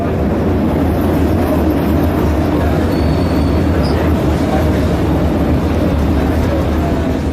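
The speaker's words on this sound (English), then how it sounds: "we went on a tram ride around Pyongyang" A tram rolling through Pyongyang, heard from inside a carriage: a loud, continuous low rumble and rattle of wheels and car body that holds steady throughout, with no clear speech.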